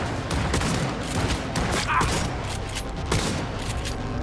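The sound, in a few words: gunfire in video game Cyberpunk 2077 Phantom Liberty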